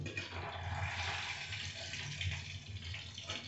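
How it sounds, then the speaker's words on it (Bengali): Fried paneer pieces are placed into a bowl of water, giving a soft, continuous splashing and trickling close by, with no talk. "ভাজা পনিরগুলোকে জলের মধ্যে রেখে দিলাম।"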